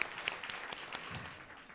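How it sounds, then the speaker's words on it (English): A short burst of audience applause for councilmembers at a community event, scattered claps, fairly faint and thinning out quickly. "let's give them a round of applause"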